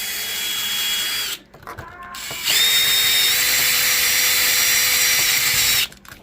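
A power drill screwing through a screw head while a Super Nintendo controller is being fixed: a close, steady high whine runs for over a second, pauses briefly, then runs again for about three seconds.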